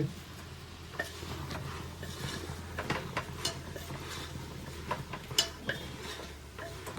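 A spoon stirs masala curry in a metal pan, turning it over after chilli powder and garam masala go in. The scraping and clinking come close and steady, with occasional sharper knocks against the pan.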